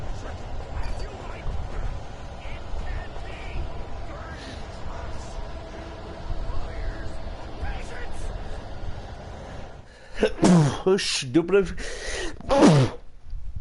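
Sneezing from a player amid Alan Wake Remastered gameplay at a gas station, several sharp bursts near the end following steady game ambience and talk.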